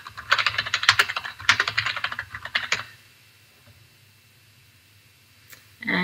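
Someone types quickly on a computer keyboard while entering an account name in accounting software, bursts of close, crisp key clicks for about three seconds followed by near silence and a final faint tap.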